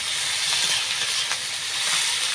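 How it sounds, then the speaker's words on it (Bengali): Shredded cabbage dropped into hot mustard oil gives off a loud, steady broadband hiss of sizzling that holds evenly throughout, with no voices. "সর্ষের ওপর বাঁধাকপিটা আমি দিয়ে দিয়েছি।"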